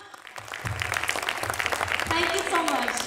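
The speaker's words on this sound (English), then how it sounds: "So a round of applause to you guys." Audience applause after an Odissi dance solo performance, a rising wash of clapping mixed with crowd voices and a faint tone beneath.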